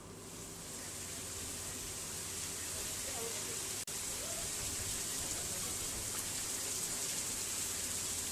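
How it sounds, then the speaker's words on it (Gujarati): Heavy downpour with thunder over villages including Virpur, Akala and Rampar in the Lathi area of Amreli, a steady dense hiss of rain filling the whole stretch, with one sharp brief crack partway through. "લાઠી પંથકમાં ગાજવીજ સાથે ધોધમાર વરસાદ"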